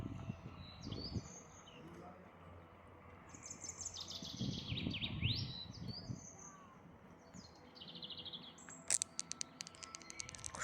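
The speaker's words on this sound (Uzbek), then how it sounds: "Qushlar sayrab turibdi." Birds chirp and sing in the Musical Park in Batumi, scattered high calls over a low outdoor background with some rustling and faint sounds nearby.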